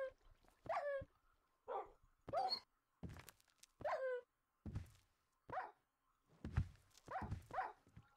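A dog in Minecraft gives a series of short, sharp barks in uneven bursts, mixed with thuds and quick footstep-like knocks. The sounds are fairly quiet with gaps of near silence between them.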